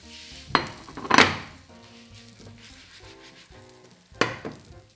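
An omelette in a frying pan gives a low, steady sizzle in the background, broken by a few sharp scraping clatters of a utensil against the pan near the start and again near the end.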